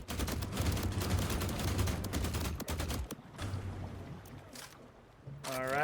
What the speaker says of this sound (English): My bullets are ricocheting and hitting my oil drum, I think.